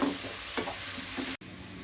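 Onions and tomatoes sauté in a pan with a steady, close sizzle and stirring scrapes, broken by a very brief dropout near the end.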